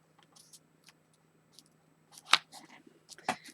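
Scissors snip through paper scraps for a collage: a few faint, scattered clicks, then two sharper, closer cuts near the end, with quiet pauses between.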